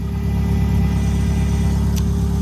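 An old car engine that has been running badly idles loudly, close by and without a break, as a steady low rumble with an even pulsing beat.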